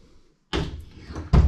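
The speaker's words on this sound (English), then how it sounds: "We go through this door" A cabin door aboard a one-off twin-engine steel Kompier Spitsgatkott luxury boat opens with a sudden scraping thud, a brief rustle, then a second heavier bump as it swings, heard close with no talking.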